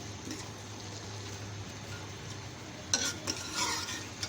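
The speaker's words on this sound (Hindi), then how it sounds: "इसको हम अच्छे से मिक्स करेंगे ताकि इसमें थोड़ा ऊपर ऑयल आ जाए" A spatula mixes cumin seeds and spices into oil in a pan while cooking mixed vegetable khari. A low, steady sizzle runs throughout, and a few louder scraping strokes come near the end. No one talks.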